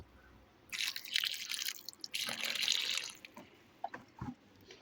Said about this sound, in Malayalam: കുറച്ച് വെള്ളം കൂടെ ഒഴിച്ചു കൊടുത്തു.